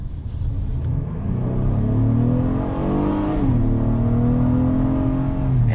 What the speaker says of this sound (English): That is a proper sounding V6